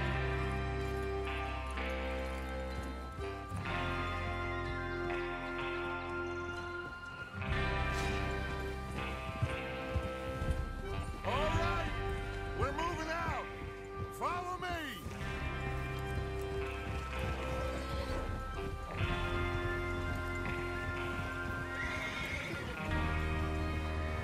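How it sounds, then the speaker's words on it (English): Horses in the Red Dead Redemption 2 video game whinny several times with clip-clopping hooves, all set within a loud, continuous orchestral music score. "Get your horses ready."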